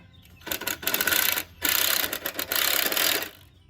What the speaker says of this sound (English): Driver, you can go a little deeper into the wood